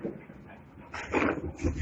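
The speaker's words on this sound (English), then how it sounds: "oh my God, my dog is going crazy" An excited dog making a few short yips and whimpery barks toward the end of a quiet stretch, fairly faint and indoors, with no talk over it.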